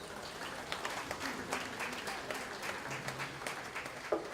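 A crowd applauds steadily at a junior fair dairy feeder livestock show, dense, continuous clapping at moderate distance, lasting the whole stretch with no pauses.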